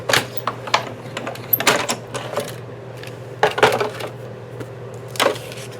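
Paper run through a hand-cranked embossing machine inside an embossing folder for a floral card project: irregular close clicks, knocks and ratcheting taps over a steady low hum, with no talking.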